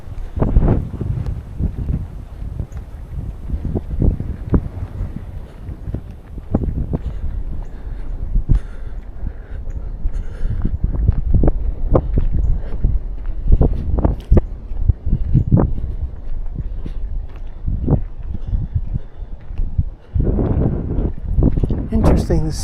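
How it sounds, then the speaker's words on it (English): Gusty wind buffets the microphone outdoors on the Panhandle Trail near Burgettstown, a steady low rumble with louder bursts throughout, and a person talks over it. "kind of windy out here."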